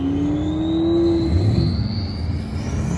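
A Duramax diesel truck revs at an outdoor car show, a rising engine whine over a low, rumbling idle, fairly close and loud with crowd ambience behind and no talking.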